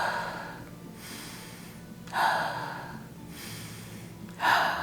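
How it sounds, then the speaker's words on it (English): Rapid, shallow chest breathing, with two sharp, gasping inhales standing out over a steady, softer breath noise, close and fairly loud. "when we are breathing very rapidly with our chest"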